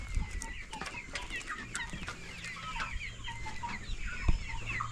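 Kienyeji chicks, an improved local breed, cluck and peep continuously while feeding on kale, with many overlapping soft calls close by and no talk.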